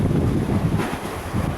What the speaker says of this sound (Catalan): Fot un vent, fot un fred i una mala mar que flipes.